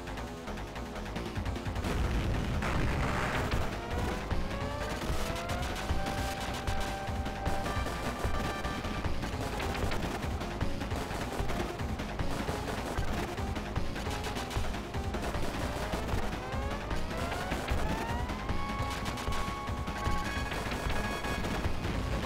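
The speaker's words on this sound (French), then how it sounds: "j'ai pris le lance-grenade parce qu'on va arriver déjà au premier boss du premier niveau" Grenade launcher shots against the first boss in Probotector on the Mega Drive, repeated booming impacts and explosions layered with chiptune music and rising electronic tones, loud and continuous throughout.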